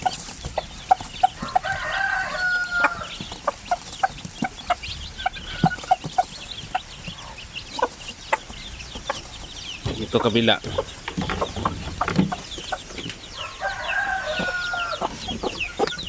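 Free-ranging chickens on a small farm in the rainy season, including a hen with chicks, cluck busily near and far while a rooster crows, with a person briefly speaking over them.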